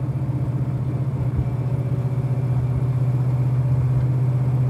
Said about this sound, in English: Exhaust sounds good too.